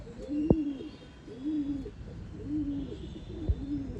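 Pigeons coo in a repeating series of soft, throaty phrases at close range, with a couple of sharp thumps in between; the birds are old-line pigeons kept for sale in Bangalore.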